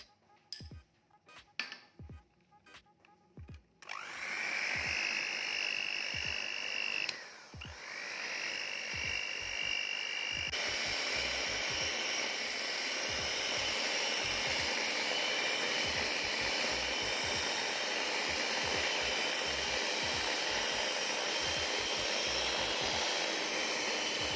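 An electric hand mixer whirs steadily as it beats chocolate brownie batter with a little milk added, the motor starting after a few faint knocks and running loud and continuous, with one brief dip partway through.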